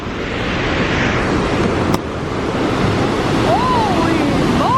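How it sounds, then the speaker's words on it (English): A waterfall in a deep Canadian canyon roars as a loud, constant broadband rush of falling water close by, with wind on the microphone and a brief whistle-like sound near the end. "Wow, you can hear that water."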